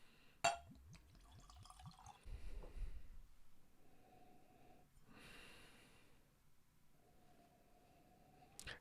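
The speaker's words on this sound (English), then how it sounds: "here I am going to pour me some Chicken Cock 15-year-old barrel proof" Chicken Cock 15-year-old barrel proof bourbon is poured into a glass, giving soft liquid splashing and glugging with a clink of glass at the start and end, close and fairly quiet, alone.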